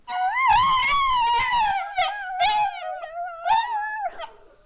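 Two dogs howl and vocalize in long, wavering, sung tones close by, rising and falling in several overlapping drawn-out phrases with short breaks between them.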